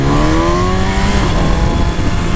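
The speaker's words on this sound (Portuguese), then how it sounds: "O barulho dessa moto é sinistro." A BMW S1000 motorcycle engine revs loud and close, its pitch climbing through a sustained high-rpm howl that fills the whole moment with no talk over it.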